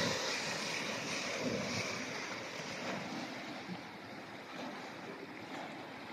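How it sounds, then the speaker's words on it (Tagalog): Rough sea waves at Khairan beach resort in Kuwait make a steady, close, broadband roar with some wind buffeting the microphone, continuous and unbroken with no voices. "Maalon guys."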